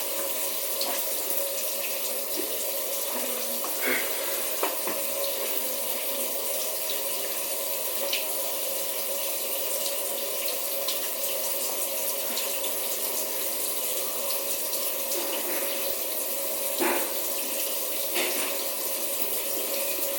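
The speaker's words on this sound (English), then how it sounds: "You're gonna have to run your hand under the water." Tap water runs steadily from a kitchen sink faucet with a garbage disposal, a continuous broadband hiss lasting the whole stretch with a few faint clinks and splashes, no talk over it.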